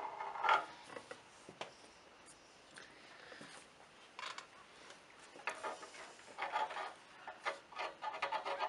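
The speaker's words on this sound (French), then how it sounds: "ce qui est pas mal, c'est de lisser avec le nez du marteau." Soft, irregular rubbing and scraping as the nose of a hammer smooths a book spine during backing in bookbinding, close but faint, in short strokes separated by brief pauses.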